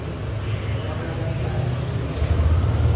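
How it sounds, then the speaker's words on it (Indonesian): A Yamaha All New NMAX 155 scooter's electric starter engages, with a steady low mechanical rumble that swells louder near the end as the engine catches, close by and with no talk over it. "Kita coba nyalakan starter."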